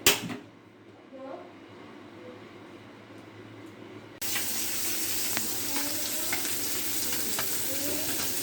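Shapla water lily stems cook with hilsa fish in a pan on a stove. A quiet stretch gives way to an abrupt, loud, continuous sizzle that holds steady to the end.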